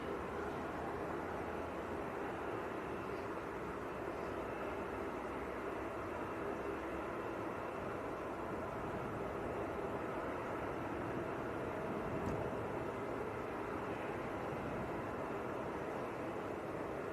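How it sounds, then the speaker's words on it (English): An Aer Lingus ATR turboprop airliner from Belfast on final approach to Manchester airport, heard as a steady, distant broadband drone that holds at an even level throughout with no speech over it. "There is another ATR on finals."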